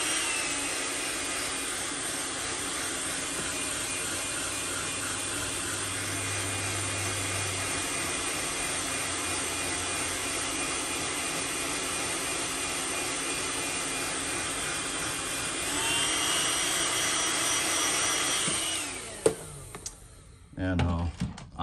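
A heat gun blows steadily while heat-setting paint on a hand-painted gizzard shad fishing lure, a loud continuous whoosh lasting most of the clip before cutting off near the end with a few clicks.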